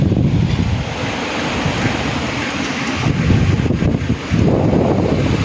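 Typhoon wind roars at dawn in steady, heavy gusts that buffet the microphone, with loud rushing noise and short surges.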